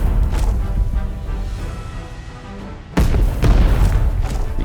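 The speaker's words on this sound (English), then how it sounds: "let's stop right here and let's fire the cannons" In Minecraft, a ship's cannons fire: a heavy boom lands, then a rumbling roar keeps going, and a second loud blast hits around the three-second mark, followed by sharp crackling impacts.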